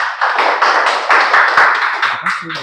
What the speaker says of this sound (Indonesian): Coba kasih apresiasi untuk tepuk tangan